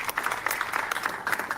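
Crowd at a protest clapping hands, a dense burst of applause with loose rhythmic peaks, moderately loud and without speech on top.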